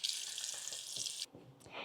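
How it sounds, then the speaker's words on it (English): Tap water runs hard into a bathroom sink for over a second, then cuts off, followed by a brief splash and trickle as hands are washed. "So we're gonna wash our hands."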